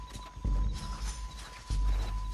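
A horse's hooves clip-clop at a fast gallop in the Red Dead Redemption 2 video game. The hoofbeats come close and steady, with heavy thuds pounding over a low rumble.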